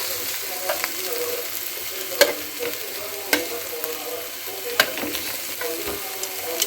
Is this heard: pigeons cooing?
no